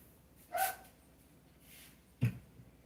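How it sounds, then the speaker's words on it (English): A dog barks once, short and moderately loud at a distance, followed by a second muffled thump-like bark; the sound stands alone in a quiet room. "I heard a bark."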